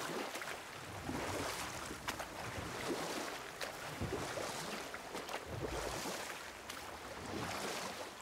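In the video game God of War, soft, steady wash of water and wind around a moving boat, with faint splashes and lapping throughout, quiet and continuous, no voices.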